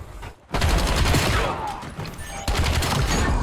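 The M8 rifle in the video game Black Ops 7 fires near-continuous loud rapid bursts, with a brief pause at the start and a stronger burst midway, dense gunfire filling the whole stretch.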